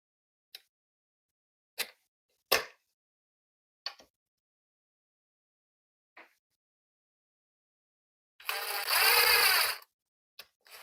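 A ratchet tightens the shifter cover bolts on an NV4500 transmission: a few sparse, sharp clicks, then one loud, dense burst of rapid ratcheting near the end, close up and with no talking.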